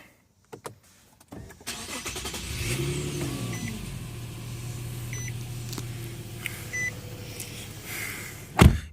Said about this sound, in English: Let me go ahead and get the engine started up.